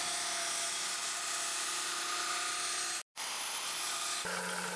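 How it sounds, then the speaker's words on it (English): Drill boring holes in 2mm stainless steel plate for chainsaw bucking spikes, a steady high whine with grinding texture, a brief cut-off near the middle, then resuming at a slightly different pitch. "drilled the mounting holes as well as 2 holes between each tooth"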